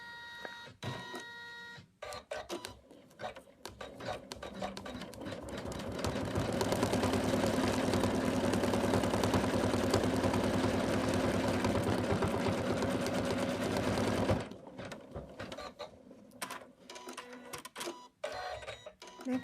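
An embroidery machine stitches a satin-stitch outline on a snowman in-the-hoop stocking, starting with scattered clicks, then a dense continuous mechanical whir of rapid stitching that stops abruptly into more clicking and handling.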